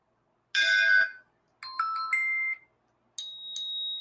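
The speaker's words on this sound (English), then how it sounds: "What kind of what is the ding ding bell? It's a concierge bell." A concierge desk bell rings out in three separate bursts of bright, metallic ringing tones, each briefly sustained, close by and clear with silence between strikes.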